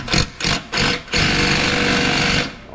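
A pneumatic ratchet wrench with a long extension works on car engine bolts, giving three short loud bursts and then a sustained rattling run before it stops, close up.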